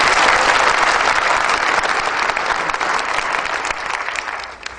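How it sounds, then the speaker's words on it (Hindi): Loud applause from a seated training-session audience, a dense wash of many hands clapping together that holds steady and then tapers slightly at the end, close and without talk. "जोरदार तालियां"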